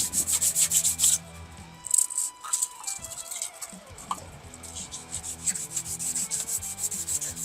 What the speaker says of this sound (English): Try and sand off all the paint.